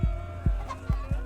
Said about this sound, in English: He drops chicken men, who then drop the chickens.